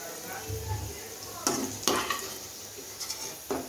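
Potato pieces coated in turmeric, chili powder and salt fry in hot oil, a soft close sizzle broken by a few short scraping stirs of the spatula.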